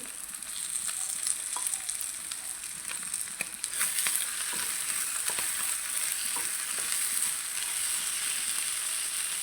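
Tomato added to a pan for a home-style fish chutney fries with a continuous, fairly loud hiss, and scattered light clicks and scrapes of stirring run through it.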